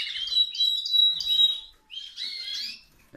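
Small caged birds in an aviary, including yellow ones, chirp and trill in bright, close bursts with brief pauses between phrases; no voices.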